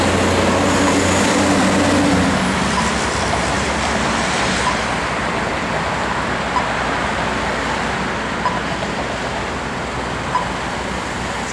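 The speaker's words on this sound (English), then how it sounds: "Now a second tram coming." A tram rumbles past at the Port Road and Adam Street intersection in Hindmarsh amid steady traffic noise, loudest at first and then settling into a continuous low roar.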